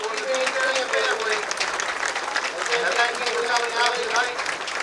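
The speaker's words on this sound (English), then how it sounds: "And they're going to have a round of applause here for the Debo family." A crowd at a homecoming high school game between West Mifflin and Laurel Highlands applauds steadily for a long round of clapping, with an announcer speaking over it.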